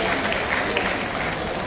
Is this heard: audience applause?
yes